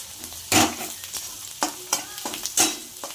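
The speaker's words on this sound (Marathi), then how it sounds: "हळद जरा परतवून घेऊ." Crackling sizzle of turmeric frying in hot oil, with a few louder bursts as the pan is stirred.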